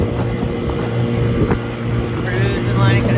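A rebuilt 70-year-old outboard motor runs steadily on a boat after starting on the first pull, a continuous engine drone on a windy day, with brief voice-like tonal sounds partway through.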